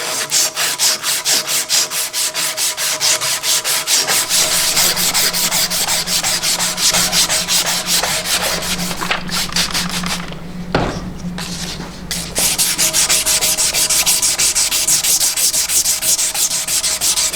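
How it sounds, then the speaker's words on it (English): Sandpaper is rubbed by hand over metal parts of a 100-year-old safe being restored, a close, steady back-and-forth scraping with fast regular strokes that continue almost without a break, pausing only briefly near the end. "I'm going to get these really slick. So got a little bit of sanding to do."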